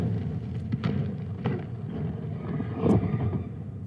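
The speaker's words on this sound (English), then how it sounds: "that is the sound of Blue Origin's New Glenn rocket exploding while it was being tested on the launch pad at Cape" Distant rumbling of the Blue Origin New Glenn rocket exploding during testing on the launch pad at Cape Canaveral, a low, muffled roar with faint crackles heard from far off, with no voices.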